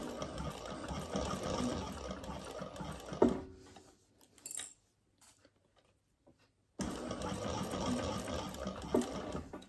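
A sewing machine stitches quilt binding on a drinks bag made from butter bags, a steady close mechanical whir that runs, stops for a few near-silent seconds with small clicks, then resumes.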